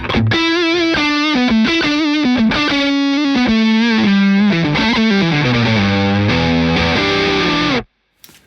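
An electric guitar through a Keeley D&M Drive overdrive pedal plays a thick, distorted melody of sustained notes that steps downward, then cuts off abruptly into near silence.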